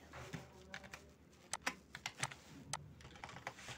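Someone types text on a computer keyboard in Microsoft Word, producing an irregular run of close, quiet key clicks with a few firmer taps and no speech.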